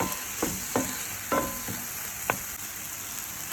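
Spice powder and salt are stirred into chicken in a hot pan for an Arabic-style yogurt chicken curry: a steady sizzle with several sharp utensil scrapes and taps spaced irregularly, close and clear, with no talking.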